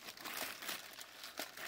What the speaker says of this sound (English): anti-ultraviolet plastic bags